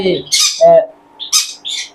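Caged parakeets, including a lutino female, letting out loud, harsh squawks and chirps, several close calls in quick bursts with short gaps between.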